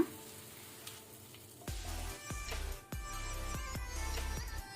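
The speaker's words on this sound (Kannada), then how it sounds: "ಈಗ ನಾವು ಒಗ್ಗರಣೆಯನ್ನು ಮೇಲಿಂದ ಹಾಕೋಣ" Hot tempering spiced with Kashmiri chilli powder is poured over black masoor dal, setting off a sudden loud sizzle that crackles on with several sharp bursts before easing into a steady hiss.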